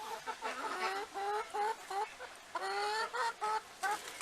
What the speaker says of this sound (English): We have a bunch of hens and 2 roosters.